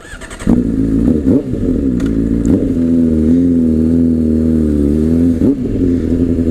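A Honda CBR sport bike engine idles steadily and loud after a sharp start, with several quick revs punctuating the warm-up and a deep, continuous rumble throughout.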